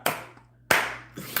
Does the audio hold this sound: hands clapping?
yes